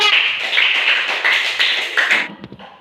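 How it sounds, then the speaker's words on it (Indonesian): A short burst of clapping from a small group of students in a classroom, fairly close and steady, tapering off into a few scattered claps at the end. "tepuk tangan untuk kelompok"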